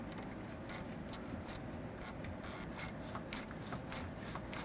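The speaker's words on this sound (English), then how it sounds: "Clamp was a little too tight, so I'm going to loosen it up." A worm-drive hose clamp being loosened on the power steering oil cooler line of a 2003-2021 Chevy Express 3500 van: a fast ratcheting, clicking mechanical rasp, close and continuous, without speech.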